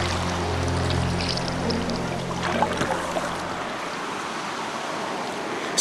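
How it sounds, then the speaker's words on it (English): Water rushes and pours steadily off a mountainside into a lake, a broad continuous wash with a low rumble underneath, fading slightly toward the end. "You've got water flowing off the side of the mountain and into the lake."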